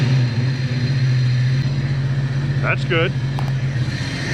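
An old Jeep engine, just started on a fresh battery, runs with a steady, loud low drone throughout, while a voice briefly speaks over it near the end.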